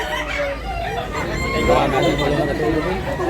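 Roosters crow amid a busy outdoor chicken market in Tabunok, Cebu, their calls mixing with crowd chatter and voices nearby, a dense, continuous bustle.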